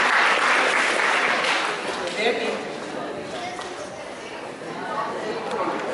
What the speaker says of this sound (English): Children, can we have a big round of applause for them?